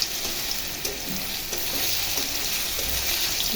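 Marinated chicken frying in hot oil in a kadai over reduced heat, a dense continuous hissing sizzle with faint crackles, close and steady throughout.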